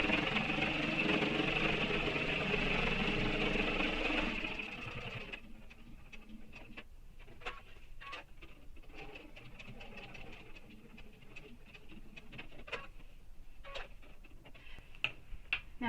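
A sewing machine top-stitching a fabric backpack runs in a steady whirring burst for a few seconds, then falls to quieter intermittent clicks and ticks.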